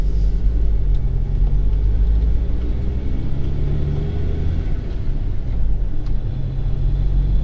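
V10 Dodge 2500 truck engine rumbling steadily while driving, a low, continuous drone heard from inside the cab with road noise, no voices.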